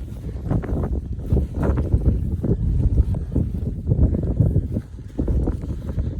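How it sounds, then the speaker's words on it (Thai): Morning wind on a misty hilltop blasts against the microphone in continuous heavy rumbling gusts, loud and close, with no talking. "ลมใช่ปะตอนเช้า"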